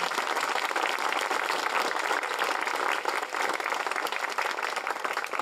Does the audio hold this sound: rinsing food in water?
no